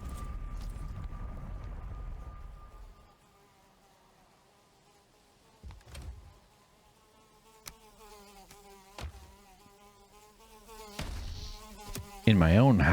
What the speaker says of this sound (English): I hear buzzing.